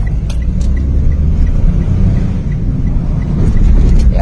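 A Toyota Wigo with a rebuilt transmission rolls along on a road test, giving a steady low rumble of engine and tire noise from inside the cabin, with a few light clicks and no talk.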